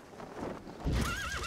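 A horse in the video game Metal Gear Solid V: The Phantom Pain gives a loud, wavering whinny, preceded by hoof clatter and a heavy thump, close and clear over a low game background.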